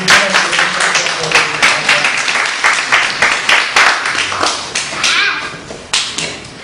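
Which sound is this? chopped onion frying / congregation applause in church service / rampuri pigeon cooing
congregation applause in church service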